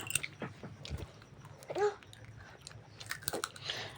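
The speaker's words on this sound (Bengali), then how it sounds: "তাই বসে বসে পাঁপড় খাচ্ছি" Quiet, close crunching and biting of crisp fried papad, with a few sharp snaps and softer chewing spread unevenly over a few seconds.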